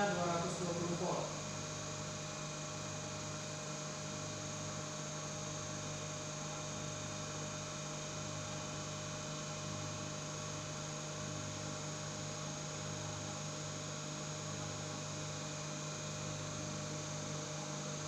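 A three-phase synchronous generator runs with a steady, unchanging electrical hum throughout, faint and continuous with a soft pulsing undertone, after a brief bit of noise at the start.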